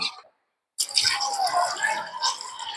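Water poured into a cooking pot of soup with bones at a farm campsite, a steady splashing pour after a brief silence, close and continuous.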